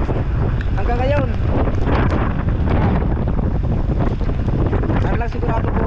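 Strong typhoon wind from Typhoon Carina roars steadily across the microphone, buffeting it continuously, with faint voices and splashing water beneath the gusts.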